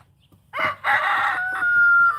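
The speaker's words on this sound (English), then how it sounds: "But there's a rooster there." A rooster crows once, loud and close, in a long drawn-out call that holds and trails off, with faint background noise before it.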